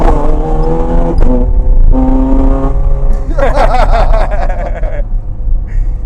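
A 2008 Ferrari 430 Scuderia with a naturally aspirated V8, driven hard on a public road, revs up loudly and changes pitch through gear shifts, close and continuous, with a voice talking briefly over it.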